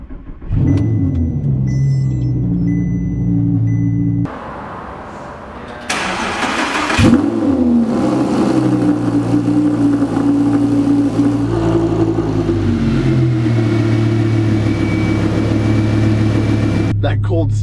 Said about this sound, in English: Start is so loud,